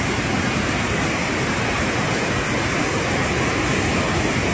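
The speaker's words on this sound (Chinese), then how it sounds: "他为了带我看瀑布啊。" A mountain waterfall beside a slippery, rocky path on a rainy day roars as a loud, steady wash of broadband noise with no pauses.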